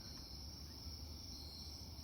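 Crickets chirp in a steady, high continuous drone across a dark outdoor night among trees, with a low rumble of cars flowing by in the distance underneath.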